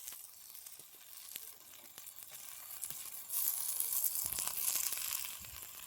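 Vegetables drop into a hot pan and sauté with a quiet sizzle and light stirring clatter. The hiss turns louder and brighter partway through and then carries on steadily.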